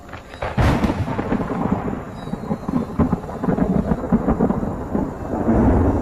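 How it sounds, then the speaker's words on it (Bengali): A deafening thunderclap from lightning striking close by bursts out, then rolls into a long, loud rumble with rain falling throughout. "কান ফাটানো একটা শব্দ। কাছেই কোথাও বাজ পড়ল বুঝি।"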